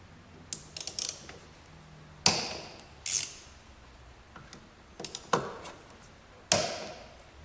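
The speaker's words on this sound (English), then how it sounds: "using T30 Torx, you're going to have 5 bolts that are going to need to be loosened and removed to gain access to the fuel filter area" A ratchet with a T30 Torx bit loosens the bolts on the fuel filter housing of a VW Golf 2.0 liter TDI, giving several short bursts of clicking ratchet pawl with pauses between them, close and fairly loud, with no talking.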